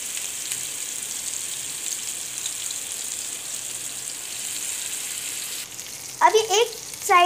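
Sheekh kebabs laid apart in a hot pan sizzling and frying with a steady crackling hiss, with a voice breaking in briefly near the end.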